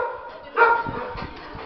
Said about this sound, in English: Here is a dog that is desperate to get out of its cage.